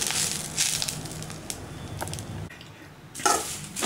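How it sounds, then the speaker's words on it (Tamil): Curry leaves dry-roasting in a pan give off soft crisp crackles and rustling scrapes as they are stirred, with a few louder crunchy bursts and a brief lull near the end. "கருவேப்பிலை நல்லா வறுபட்டுச்சு நல்லா மொறுமொறுன்னு ஆயிடுச்சு"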